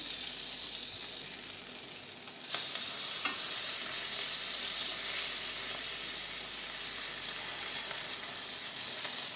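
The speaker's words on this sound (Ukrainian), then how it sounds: "І на середньому вогні будемо смажити їх до готовності." Steady sizzling of zucchini frying in a hot pan over medium heat, a continuous crackling hiss that gets a bit louder partway through, with no talking.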